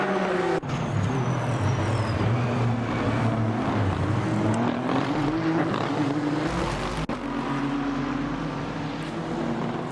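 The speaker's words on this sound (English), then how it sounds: "he brings his Audi R8 LMS EVO 2 down into turn 1 side by side with the Moshnev as he now exits the corner" Audi R8 LMS EVO 2 GT3 race car at Fuji Speedway in a racing video game, its engine droning loud and steady with shifting pitch as it brakes into turn 1 alongside another car, one brief gap near the start.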